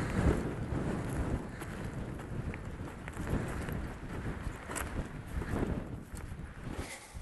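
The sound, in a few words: strong wind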